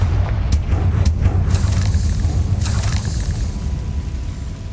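A Confringo blasting spell explodes in the Hogwarts Legacy game, giving a loud sustained rumbling boom with several sharp bursts early on, heard alone with no talking.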